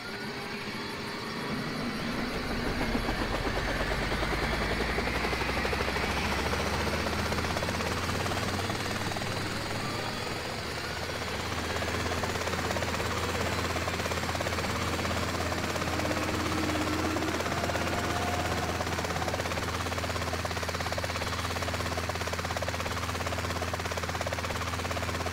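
Helicopter in a video game set in Africa, its rotor drone and engine rumble steady and loud throughout, a continuous close whir without pauses.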